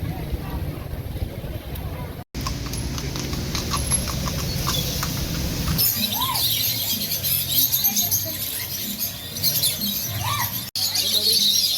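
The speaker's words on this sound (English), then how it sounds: "That's a lot of birds." Many birds chirp with bright scattered calls that thicken and grow busier in the second half, over a low engine and water rumble, with voices talking underneath.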